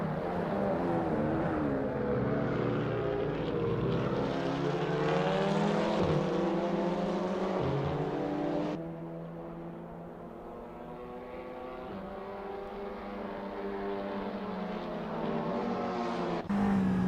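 Audi TT Cup race car engines lapping Sonoma Raceway in Assetto Corsa, a steady high-revving whine whose pitch rises and falls through gear changes, loud and continuous with no talk.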